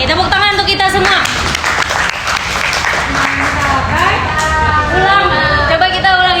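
A group at a finance workshop claps together, a burst of hand clapping mixed with loud cheering voices and chatter nearby.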